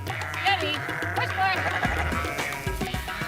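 Sheep bleat repeatedly while a kelpie herds the flock, several close, wavering calls overlapping one another above a low background murmur.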